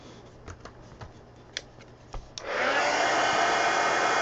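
Hair dryer switching on to dry paint in a sketchbook, preceded by a few faint taps and rustles, then a steady loud whooshing blast that continues to the end.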